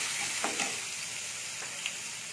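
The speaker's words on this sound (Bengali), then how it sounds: "টমেটোটাকে একটু নেড়ে নেবো।" Small-chopped tomatoes are stirred into cumin frying in a pan, a steady close sizzle with a few soft scrapes of the spoon.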